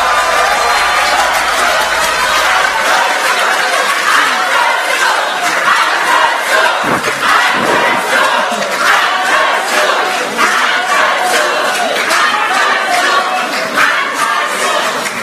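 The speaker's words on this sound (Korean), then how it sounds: "큰 박수로 맞아주시기 바랍니다." A large crowd at a party rally for newly elected People's Party leader Ahn Cheol-soo cheers and claps steadily, a loud dense roar of applause and shouts that carries on throughout.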